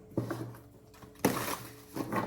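Tarot cards shuffled by hand, giving several crisp riffling bursts and soft papery taps in short irregular bursts, close and fairly clear.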